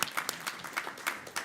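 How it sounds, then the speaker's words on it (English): A House committee hearing gives a brief round of applause, with a small group clapping at moderate distance in distinct, uneven claps. "I'd like the committee to give him a round of applause"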